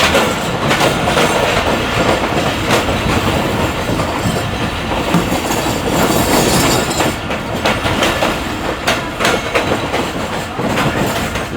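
Hazara Express of Pakistan Railways running past, a loud continuous roar of rolling wagons with clickety-clack wheel beats and faint squeal, heard close with no talk.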